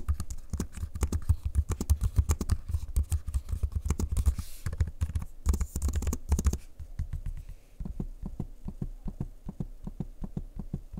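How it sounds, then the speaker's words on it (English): Rapid clicking of Lenovo Yoga Slim 7i Aura laptop keys, dense and continuous at first, then thinning to sparser taps and soft trackpad clicks, close up. "a quick audio sample of me using the keyboard and the trackpad"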